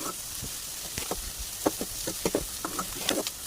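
Onions sautéing in a pan for egg curry give a steady soft sizzle with scattered clicks and scrapes of stirring, moderately close, and no voices.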